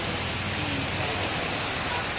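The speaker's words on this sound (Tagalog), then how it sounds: "Ayan, nabutan kami dito ng ulan." Steady rain pours down outdoors in a continuous dense hiss, close and even throughout, with no talk.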